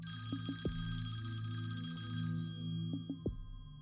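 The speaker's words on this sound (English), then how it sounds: "The telephone rings." A wall-mounted rotary telephone rings indoors, two bursts of bright metallic bell trills separated by a pause, clear and close with no talk.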